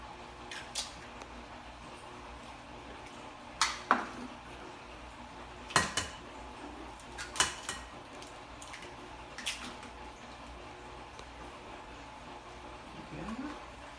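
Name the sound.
eggs being cracked into a mixing bowl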